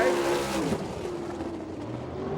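A sprint race car laps a dirt track at an All Star Circuit of Champions event in Abbottstown, Pennsylvania, its engine a steady, loud roar with a slight pitch shift as it passes.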